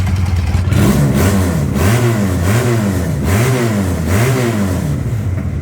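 A Futong Prince 250 motorcycle engine revs repeatedly in steady surges, pitch rising and falling about once a second, loud and close with no voices.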